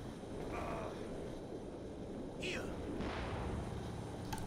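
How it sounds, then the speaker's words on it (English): Base artillery fire in the video game Company of Heroes 2: faint, distant booms and rumbling bursts over a constant battlefield din, with no talking. "Got some base artillery to stop them chasing any further"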